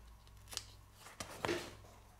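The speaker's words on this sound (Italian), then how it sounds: "basta avere un paio di forbici da elettricista, tagliare a metà la camera d'aria così" Electrician's scissors snipping through a rubber bicycle inner tube, a few quiet separate cuts and rustles at close range.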